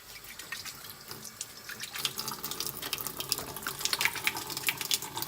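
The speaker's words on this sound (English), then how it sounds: "so I'm just gonna wash them really quickly." Water runs steadily from a sink tap while hands are washed beneath it, the broadband splashing rising slightly in the second half, with no talking.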